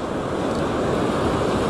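Ocean surf breaks and washes continuously onto a beach during surf fishing with sand crab bait, a close, loud, steady roar of waves with wind buffeting the microphone.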